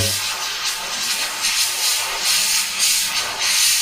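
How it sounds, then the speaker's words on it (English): An airbrush sprays paint in a loud, continuous hiss that pulses in short surges as the trigger is worked, heard close up and alone without talk. "back into the airbrush, blast through"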